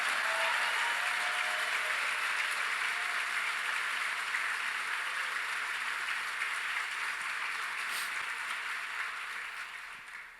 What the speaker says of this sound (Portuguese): Se vai aplaudir, dê o seu melhor aplauso a Jesus.